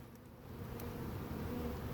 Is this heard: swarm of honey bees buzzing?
yes